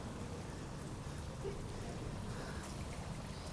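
Steady rain falling at night during a power cut in a dark city neighbourhood, a continuous broadband hiss of drops at moderate level with no breaks and no voices.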